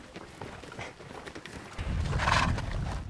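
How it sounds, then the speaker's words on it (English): Several horses on a horse drive plod along a dusty trail as dry, scattered hoof thuds build into a louder, denser clatter toward the end. "The hooves of the horses send up thick clouds of the stuff, and the animals disappear into the gritty fog."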